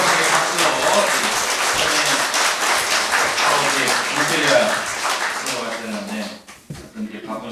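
Audience at a church workshop breaks into sustained, dense applause that stays loud and steady for most of the stretch, then thins out and fades, with voices mixed in beneath the clapping.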